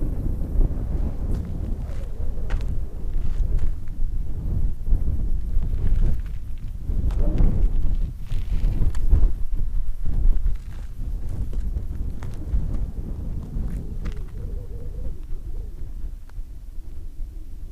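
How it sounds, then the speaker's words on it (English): Strong desert wind in Saudi Arabia buffets the microphone in loud, gusty low rumbles that rise and fall for the whole stretch, with faint footsteps in between. "It's quite a strong wind here."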